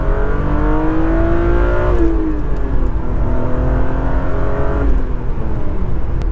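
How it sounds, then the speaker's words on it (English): A European-market BMW E36 M3 engine pulls hard and climbs in pitch, drops briefly at each gear change, then revs up again. Loud, close and continuous. "it's like awfully satisfying to roll through the gears in this car."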